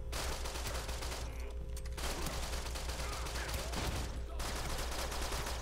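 Gunfire in The Bourne Conspiracy video game: continuous rapid shooting with dense, steady bursts, broken by two brief pauses, under a constant low rumble.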